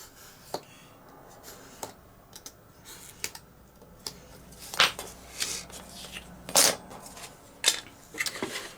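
Cutting a small wedge piece for the cowl ring of a Warbirds Replicas FW190 model aircraft, a series of sharp irregular clicks and crunchy scrapes, close and crisp, growing busier and louder toward the end, no voices.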